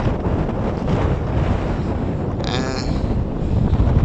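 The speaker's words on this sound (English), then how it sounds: "east wind weather, hot, and very windy" Strong, hot east wind in Luderitz roars and buffets the microphone continuously, loud and close, with a brief whistling gust partway through.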